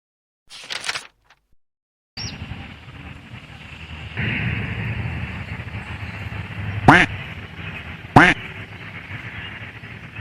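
A person outdoors on a river walk imitates a duck with two short, loud quacks, heard over steady wind noise after a brief quiet opening.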